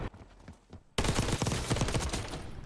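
A conversion-kit gun in Warzone opens up after a quiet lead-in, firing a sustained, dense stream of rapid shots that stays loud and close until the end.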